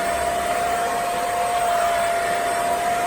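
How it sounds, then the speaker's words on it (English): A Rug Doctor carpet cleaner runs continuously on a rug, a steady loud motor whine with a constant high-pitched tone and no pauses or voices. "So got my rug doctor out."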